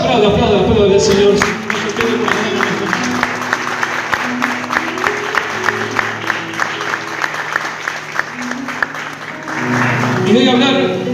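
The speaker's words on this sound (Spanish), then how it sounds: "Aplauda, aplauda, aplauda al Señor." A church congregation claps in a steady, even rhythm throughout a service, sharp regular hand strikes running under a singing or preaching voice and background music, with the clapping breaking off near the end.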